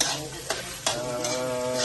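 Beef fat rendering in a pan for an Ilocano pinapaitan dish, with a steady close sizzle broken by a few scraping stirs of a utensil against the pan.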